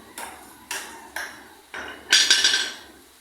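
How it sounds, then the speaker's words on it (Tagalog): Hammer blows striking motorcycle sprocket bolts to loosen them, five sharp metallic strikes at uneven intervals, the last a quick ringing cluster, close and clear with no talk. "kailangan lang talaga ay pupupukin mo para lumuwag yung mga tornilyo"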